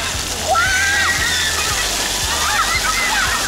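Water jets of a fountain in Korea rush and splash steadily, with small balls lifted on the streams. Distant voices and children's sounds rise faintly above the loud, continuous spray.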